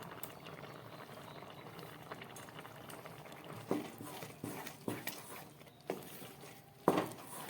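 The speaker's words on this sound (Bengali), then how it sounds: "খিচুড়িটা আমার ফুটে উঠেছে" Bengali khichuri of rice and lentils with raisins, ginger and green chilli bubbling in a pot, a soft low simmer punctuated by several louder plopping bursts toward the end.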